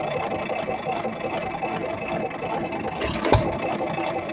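A Hercules hit-and-miss stationary engine runs steadily with a continuous mechanical chugging, fairly close, with a sharper knock or pop near the end.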